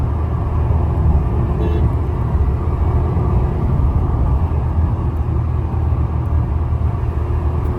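Tata Altroz Racer three-cylinder engine heard from inside the cabin while driving, a steady, loud low rumble that holds evenly throughout with no talking over it.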